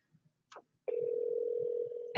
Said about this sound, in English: I think it's ringing